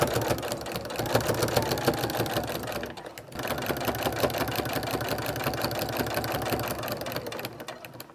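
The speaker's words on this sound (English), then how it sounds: "I'm going to keep stitching until I hit the next corner" Sewing machine running fast and steadily while stitching a quilted throw pillow cover at a long stitch length, a loud close rapid mechanical whir with one brief pause partway through.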